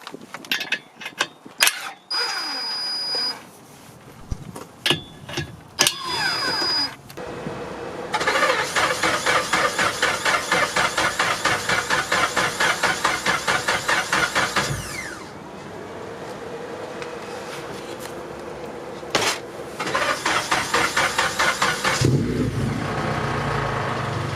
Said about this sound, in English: let's warm up the car